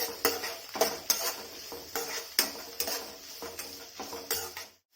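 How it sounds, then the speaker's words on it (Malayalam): Green chillies are stirred into a taro root curry in a pan, with a spoon scraping and knocking against the metal in quick, regular strokes over a faint sizzle, close and clear. "ഇനി നമുക്കിതിലേക്ക് എടുത്തു വെച്ചിട്ടുള്ള പച്ചമുളക് ചേർത്ത് കൊടുക്കാം നമുക്ക് ഇതെല്ലാം കൂടി ചേർത്ത് നല്ലപോലെ ഒന്ന് ഇളക്കി കൊടുക്കാം"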